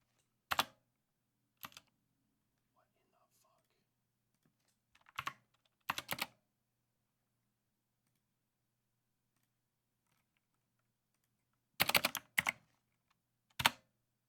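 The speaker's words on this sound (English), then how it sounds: "Tyler, please stop typing" Short bursts of clicking on a computer keyboard come in scattered clusters, close and crisp, separated by long quiet gaps with no talking.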